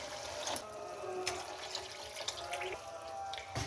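Water poured into a pan of simmering aloo mater keema gravy, a steady liquid splash and trickle running continuously for a few seconds with small drip-like accents, fairly close and moderately loud, no talking.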